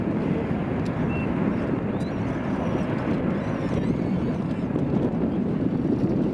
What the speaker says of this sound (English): The pilot is maneuvering the aircraft now for a maximum angle of climb takeoff